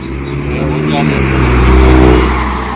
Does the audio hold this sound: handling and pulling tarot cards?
no